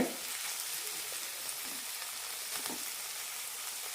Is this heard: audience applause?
no